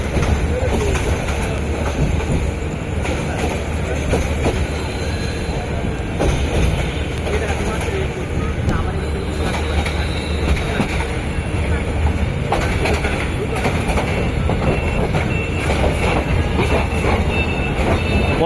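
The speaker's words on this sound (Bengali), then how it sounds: "ট্রেন ছাড়লো" The Haor Express pulls out of the station, bound from Mohanganj. Steel wheels clatter and squeal loudly and continuously, with rhythmic clickety-clack from the carriages and a rumbling rail roar. Faint crowd voices blend in.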